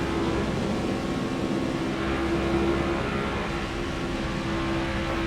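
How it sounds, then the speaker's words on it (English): Steady NASCAR Heat 5 video game race car engine drone at high revs down the backstretch, continuous and fairly loud, with a sustained tonal whine running through the whole stretch. "listen again to the engines here at a little bit higher revs down this backstretch"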